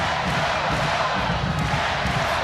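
A volleyball arena crowd roars with steady, dense cheering and noise throughout a women's college match, Rainbow Wahine against UC Davis, loud and continuous with no pauses.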